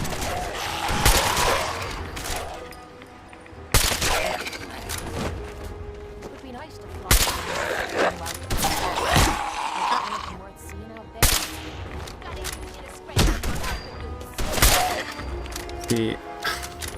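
Gunfire in the video game Fallout 4 comes in loud bursts and repeated shots, clustered with gaps between volleys, with some game effects in between.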